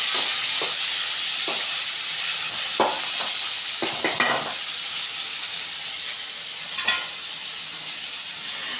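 Chopped tomatoes sizzling and being stirred in a pan with browned onions, a steady frying hiss broken by occasional scraping stirs of a spoon.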